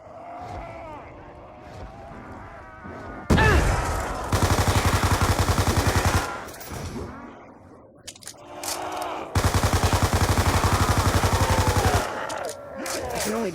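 Machine gun from Call of Duty: Black Ops II firing in two long rapid bursts, loud and close, with someone talking before, between and after them.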